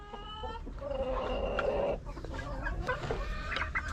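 Hens and a rooster cluck close by in a coop, with a drawn-out squawking call early on followed by softer irregular clucks.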